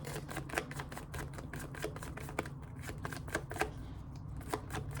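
Rapid papery riffling of tarot cards being shuffled, repeated in quick bursts of crisp clicks and flutters, close up with no talking.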